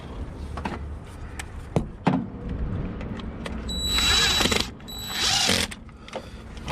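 A power drill drives a screw into a hole while a battery tender is installed, with two short whirring bursts of motor whine among quieter clicks and handling noise.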